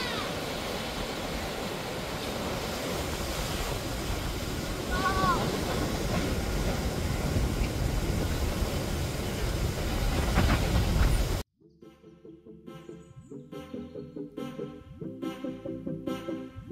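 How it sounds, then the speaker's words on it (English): Sea waves breaking at a beach in Barbados make a steady, loud surf roar for about eleven seconds, then cut abruptly to music. "Let me let you see the waves today."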